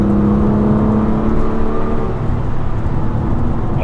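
A Porsche 911 GT3 of the 996 generation drones loudly from inside while driving, its flat-six engine holding a steady, strong rev with a slight dip and recovery, and no one talking.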